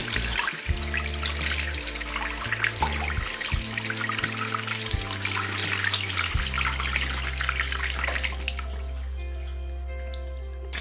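Steady running tap water pours while sterling silver jewelry is rinsed under it, a continuous close splashing flow with small shifts as pieces move through the stream.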